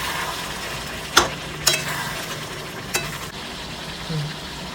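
Potatoes frying in a pan for homemade chicken biryani, a steady sizzle with a few sharp clacks from a stirring utensil.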